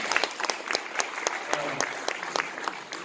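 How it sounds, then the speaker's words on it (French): Sparse, distinct handclaps from a small audience greeting an honoured guest at the opening of a literary meeting in Bourges, fairly quiet and uneven, individual claps standing out rather than a full ovation. "Merci de l'applaudir."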